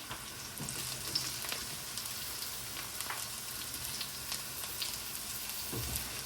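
Carrots and onions for kothu roti sauté in a pan with a soft, steady crackling sizzle, faint and continuous, with scattered light pops and no voices.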